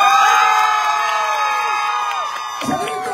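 A large concert crowd cheers, whoops and applauds loudly and continuously at a live tour show, with shouts rising over the roar and the clapping swelling near the end.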